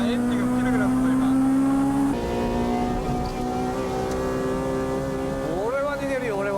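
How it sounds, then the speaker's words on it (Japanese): A Honda S2000 race car with a 2-litre VTEC engine, starved of fuel on track, drones steadily before its revs abruptly drop and falter, with a voice talking over it. "なんかエンジンが吹けなくなった今。"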